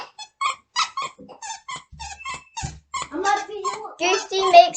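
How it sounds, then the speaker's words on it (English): A squeaky Goofy dog toy gives sharp, high squeaks mixed in with close, lively talk from a child and an adult, the squeaks getting denser toward the end. "Goofy makes a squeaking sound"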